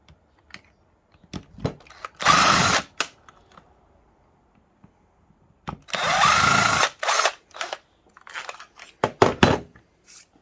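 A power drill backs two screws out of scrap metal in short bursts, two main whining runs with brief tool blips and clicks between them, close by, with quiet gaps.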